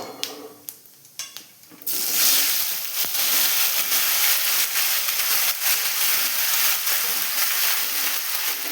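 Okra dropped into hot oil in a pan on a high gas flame, a few clattering drops as it lands, then a loud, steady sizzling hiss that fills the rest of the clip without any talk.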